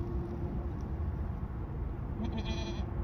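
Baby goats on a farm give a short bleat partway through, heard over a constant rumbling background noise.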